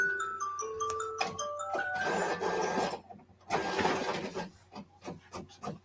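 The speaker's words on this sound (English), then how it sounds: "I am going to send this to the printer" A regular inkjet printer starts up with rising motor whirs and tones, then the print head shuttles back and forth in rasping passes followed by a series of quick clicks, close by and with no talking.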